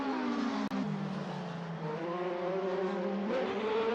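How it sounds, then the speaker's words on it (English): DTM race cars roaring around the Nürburgring in a sim racing game, a loud continuous engine wail with rising and shifting pitch and a brief cut near the start, with no talking. "I love listening to the roar of these engines. Let's just listen for a moment."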